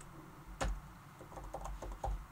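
Keys tapped on a computer keyboard, a few scattered soft clicks and one or two heavier thumps over about two seconds, quiet and close with no talk.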